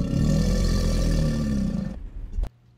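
An alligator lets out a single long, deep, close bellow, a rumbling growl that holds for about two seconds before ending abruptly.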